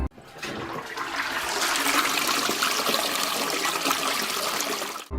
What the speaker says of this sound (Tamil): யாரோ பாத்ரூமை யூஸ் பண்ணிட்டு ஃப்ளஷ் பண்ற சத்தம் கேட்டு இருக்கு.